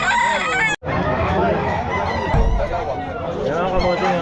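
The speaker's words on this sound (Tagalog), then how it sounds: "Marami pang manok sa sir, oh" Many chickens clucking and a rooster crowing at a busy, crowded pet market in Malolos, with people talking over the noisy flock throughout.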